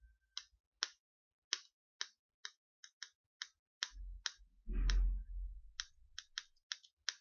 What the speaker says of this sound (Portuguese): a tampa de uma caneta, por exemplo, se eu vou fletir aqui,